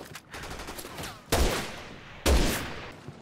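Two sharp, loud sniper rifle shots ring out about a second apart in the Resident Evil 6 video game, each with a short echoing tail, over softer background gunfire and ambient noise.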